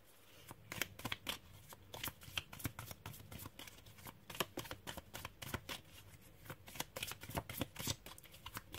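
Tarot cards being shuffled and drawn, a rapid run of crisp riffling snaps and flicks that repeats in quick bursts throughout, close and fairly quiet, with no talking.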